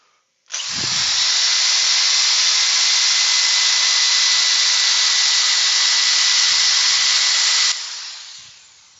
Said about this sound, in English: I'm going to try and highlight this edge, just with a bit of sanding. Turn the speed up.